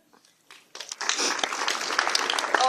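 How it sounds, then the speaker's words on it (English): Audience applause during a thank-you segment at a community gathering, starting with a few isolated claps and swelling after about a second into steady, moderately loud clapping from a room full of people. "Hold the applause, otherwise it's going to take forever."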